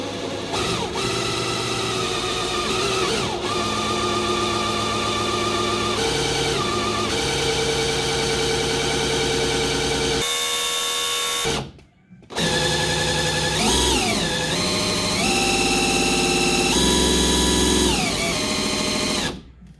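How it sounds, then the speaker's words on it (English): An electric drill turning an engine's oil pump shaft to prime it whirs loudly and continuously, its pitch rising and dipping under load, with a brief stop and restart partway through; no speech. "make sure you hold this drill down in there pretty tight"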